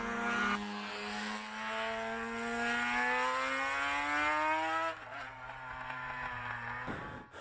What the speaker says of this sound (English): it's a 500 two-stroke Grand Prix bike